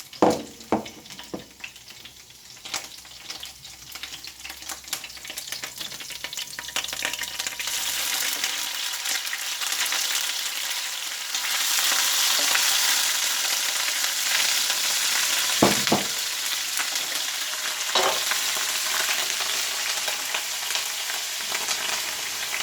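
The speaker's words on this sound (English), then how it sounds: "we are going to add our curry paste and saute it nicely" Thai green curry paste sautés in a hot pan, a steady sizzle that grows louder and spatters, with a few stirring knocks and scrapes scattered throughout.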